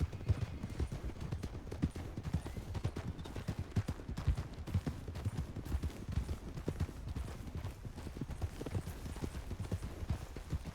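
Horse hooves clip-clop in a steady, continuous rhythm across open ground in the Red Dead game world, fairly quiet, with faint background ambience.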